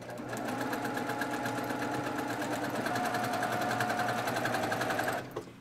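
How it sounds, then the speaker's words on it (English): A home sewing machine runs steadily, stitching rows of a Kimberbell Cutie quilted table topper, a continuous fast mechanical whir with rapid needle ticking that holds for about five seconds before cutting off, no voices. "now I'm going to stitch the center row with the plain block on top"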